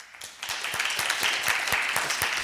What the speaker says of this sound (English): Awesome, with a round of applause.